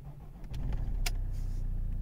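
A car that has sat unused for a couple of weeks cranks and starts. A short whirring crank rises into a steady low engine idle, close and fairly loud, with no talking.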